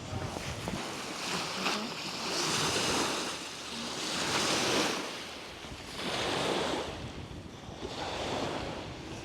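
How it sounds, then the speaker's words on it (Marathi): Waves lap against the shore of Loch Lomond, a large lake, near Luss, swelling in gentle surges about every two seconds, with steady wind buffeting the microphone throughout. "या समुद्र नाही, हे मोठं तलाव म्हणू शकता."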